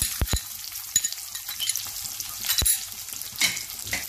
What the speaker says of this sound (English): Give everything a stir.